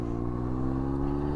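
A 1998–2003 Yamaha R1 sport motorcycle engine runs steadily, a loud, close, even drone with a smooth tonal hum and no speech.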